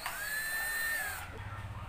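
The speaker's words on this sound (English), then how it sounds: "Let's try with one of the drill bits." A power drill fitted with a drill bit spins up with a high, steady whine for about a second, then winds down into a lower rumble, close and loud.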